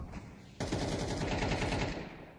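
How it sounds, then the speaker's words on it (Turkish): Rapid automatic rifle fire bursts out suddenly in a Counter-Strike match on the Mirage map, a dense, loud rattle of shots that runs for well over a second before easing off. "Voxic de Magisk'i vuruyor."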